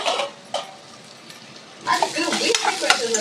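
Potato pieces coated in masala fry in hot oil for a spicy potato curry, starting with a few brief stirring scrapes and then a denser crackling sizzle that swells in the second half.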